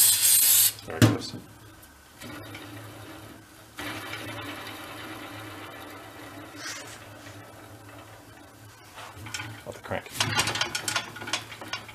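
An old VéloSolex moped's pedal crank is turned by hand, giving a grinding, ratcheting mechanical rasp in uneven strokes. Louder scrapes come near the start and the end, with a low hum in the background.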